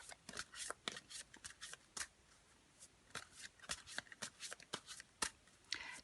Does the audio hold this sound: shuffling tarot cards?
yes